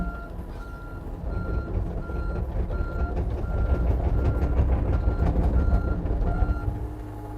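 A mini excavator drives off a trailer with its reversing alarm beeping in a steady repeating pattern over a loud rumbling engine and clanking tracks, close by.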